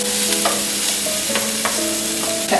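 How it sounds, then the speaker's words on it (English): Onion frying in a pan and stirred with a wooden spoon, a steady sizzle with scraping strokes of the spoon, close and clear with no voices. "Back to my trusty wooden spoon. Just stir it around until the onion is slightly translucent"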